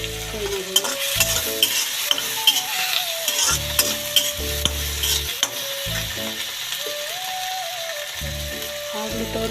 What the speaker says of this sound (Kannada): ಇದನ್ನು ಸಹ ಫ್ರೈ ಮಾಡೋಣ.